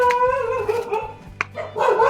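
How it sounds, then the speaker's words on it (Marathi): Village dog barking at newcomers arriving in a rural settlement, a few loud close barks and yips with a brief gap, then a longer bark near the end. "श्वान महाराजांनी आमचं स्वागत केलेलं आहे"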